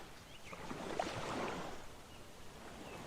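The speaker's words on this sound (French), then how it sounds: "vous pouvez entendre les sons des vagues" Soft ocean waves wash gently on a beach, a faint, distant rushing swell that rises and falls slowly, heard alone without talk.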